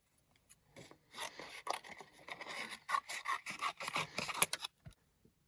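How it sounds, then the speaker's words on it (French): Scissors snip around a stamped paper Christmas tree, a close, quiet run of short crisp cuts and paper rasps in an irregular rhythm, with brief pauses between bursts and no talking. "je vais le détourer avec mes ciseaux"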